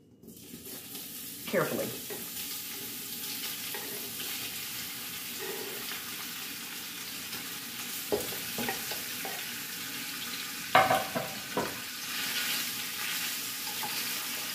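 Sausages fry in a pot with a steady close sizzle, broken by a few stirring clanks and scrapes, and a voice speaks briefly once.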